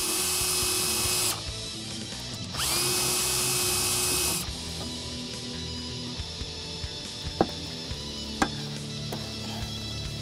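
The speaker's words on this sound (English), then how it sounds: "Grab a small drill bit, just clean out the holes first." A small drill bit on a power drill cleans out staple holes for a beltline weatherstrip on a 1965–1966 Mustang, making two high whining bursts a few seconds long over steady background hum, with a couple of sharp clicks afterward.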